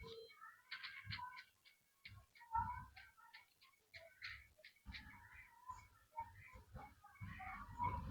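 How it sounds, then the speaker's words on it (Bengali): Chickens eat scattered rice in a home yard at the end of the day, with soft clucks and quick irregular pecking taps close by and low voices now and then. "শেষ বেলায় মুরগি।"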